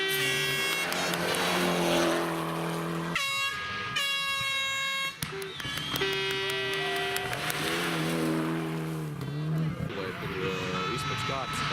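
Rally cars, including Mitsubishi Evos, race past on a Saaremaa rally stage, engines loud and close with sharp harmonic revving and gear changes across the clip, accompanied by honking horns and talk throughout.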